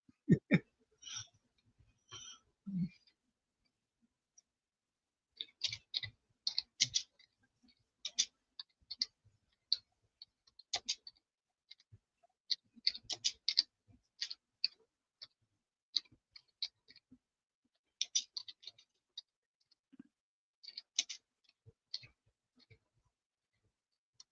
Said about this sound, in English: Oh, rage typing. Yeah, I can hear you.